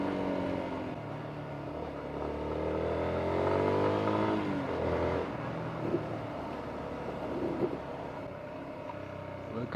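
A 2019 Yamaha Sniper motorcycle being ridden, its engine rising and falling in pitch as it revs through a jerky acceleration, steady wind and road noise underneath.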